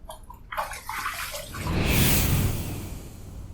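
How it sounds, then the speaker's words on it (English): Running water rinses a face and razor after a wet shave, splashing and gurgling close by before swelling into a steady rushing flow from a tap. "Let's rinse."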